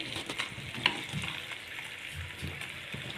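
Shankarpali sweets deep-frying in hot oil, a steady close bubbling sizzle with a faint crackle throughout and one brief sharp tick near the start, no voices.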